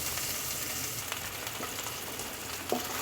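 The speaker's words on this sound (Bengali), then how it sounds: "পেঁয়াজটা এরকম হালকা ভাজা হবে বেশি লাল লাল ভাজবো না" Sliced onions fry lightly in a pan with a soft, steady sizzle close by and a few faint stirring clicks.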